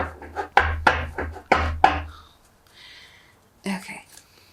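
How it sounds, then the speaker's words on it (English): A tarot card deck is shuffled in a series of sharp, rhythmic riffles and taps, several quick bursts close up followed by softer rustling. "One more shuffle."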